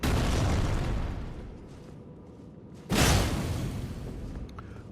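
A loud bomb blast in the video game Macbeth bursts out suddenly with a broad, booming roar, then fades slowly into a rumbling tail; a dull, heavier rumble fills the opening before it.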